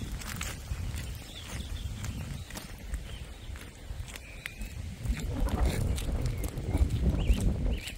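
Footsteps walking around a plant nursery form an irregular, close crunching and knocking rhythm that grows a little louder toward the end, with a busy outdoor background.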